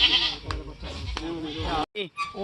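A male goat bleats loudly nearby in wavering cries at a goat market in Sukhna Ablu, mixed with people talking in the background.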